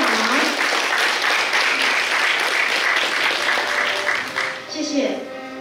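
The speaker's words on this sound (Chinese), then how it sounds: "请大家给予掌声，" An audience applauds at a school principals' handover ceremony in Changhua: dense, sustained clapping fills the hall at full strength, then thins and fades near the end as other sounds emerge.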